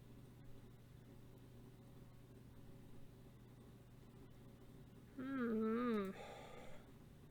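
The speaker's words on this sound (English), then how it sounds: "Yep, Fifi is a noisy cat." A cat named Fifi lets out a single drawn-out, wavering meow, close and fairly loud, over a steady low electrical hum in a quiet room.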